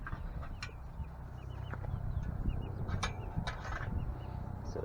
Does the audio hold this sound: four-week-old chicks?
yes